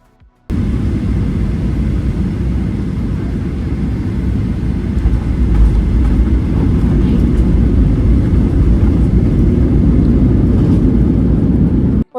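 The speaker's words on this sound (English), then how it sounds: "we were descending into Nashville and coming in for a landing" A steady, loud roar of airliner engines and cabin noise on a Southwest Airlines flight descending into Nashville to land, unbroken broadband rumble throughout, with no talk.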